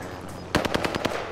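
Rapid burst of automatic gunfire in the Warzone video game, about eight sharp close shots in a quick rhythm following a quiet moment.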